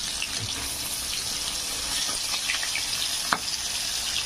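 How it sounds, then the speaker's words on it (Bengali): Small fish fry in hot oil with a continuous bright hiss and sizzle, steady and close, and one sharp pop near the end. "মাছগুলো আমি ভেজে নেব, সব মাছ আমি এইভাবে ভেজে নেব"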